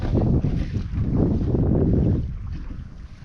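Strong wind roars and buffets the microphone over a dam reservoir with large waves, a loud continuous rushing that swells and then eases off toward the end.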